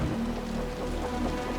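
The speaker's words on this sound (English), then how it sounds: "The rain's getting heavier." Heavy rain falling in the Wuthering Waves game world, a dense, steady close hiss of drops on surfaces over a brief moment without speech.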